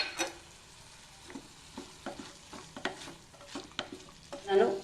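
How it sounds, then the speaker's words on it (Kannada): Mint and coriander leaves fry in a pan for a pulao, with a faint sizzle under repeated scraping stirs of a utensil against the pan, the strokes spaced irregularly and ending in a louder rustling stir. "ಫ್ರೈ ಮಾಡೋಣ. ಪುದೀನ ಸೊಪ್ಪು ಹಾಕೋಣ. ಕೊತ್ತಂಬರಿ ಸೊಪ್ಪು ಹಾಕೋಣ."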